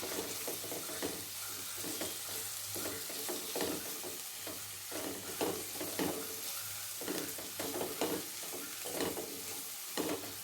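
Spicy prawn tamarind curry stirred in a pan, steady sizzling beneath repeated scraping spoon strokes in an uneven rhythm, close and continuous without talk.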